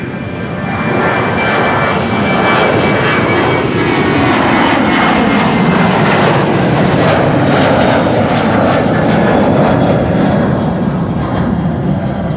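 An Air China Cargo freighter in a carbon-fiber special livery takes off from Schiphol's Kaagbaan runway 24, its engines a loud, close, sustained roar that swells and stays heavy throughout.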